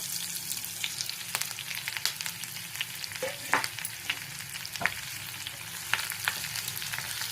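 Green chillies, onion and drumstick leaves frying in a pan, a soft continuous sizzle broken by scattered crackles and light clicks of stirring, close and fairly quiet with no voices.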